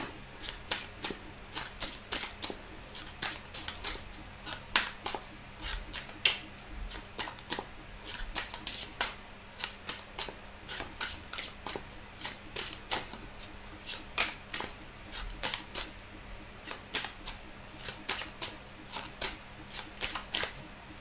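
Tarot cards shuffled by hand in a rapid run of crisp riffling flicks and soft slaps, close and steady throughout with no talking.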